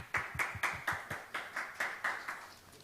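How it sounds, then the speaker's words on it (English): A single pair of hands claps in a steady, evenly spaced rhythm, about ten crisp claps, close and fairly quiet, welcoming a speaker at a climate change forum for city mayors. "please welcome him with a big round of applause"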